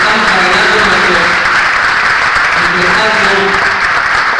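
Steady, dense applause from a crowd fills the whole stretch, loud and continuous without a break.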